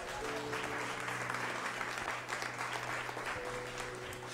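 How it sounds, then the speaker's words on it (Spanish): Church congregation clapping during a worship service, a dense, steady wash of applause lasting several seconds at moderate distance, with faint background murmur. "denle palmas al Señor"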